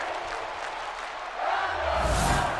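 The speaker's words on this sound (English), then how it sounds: "the crowd in my universe mode cheering for her though" A virtual arena crowd cheers in WWE 2K22 wrestling gameplay, a steady roar that swells louder midway and stays up to the end.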